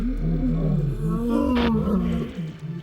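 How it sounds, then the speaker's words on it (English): Male lions of a coalition in the Sabi Sand reserve roar loudly and up close, a deep sustained rumbling call lasting nearly three seconds with no talk over it. "They were loud, they roared."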